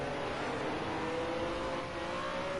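BMW M1 Procar engines in a racing video game at Imola, a steady, continuous drone of race car engines with a faint rise in revs throughout.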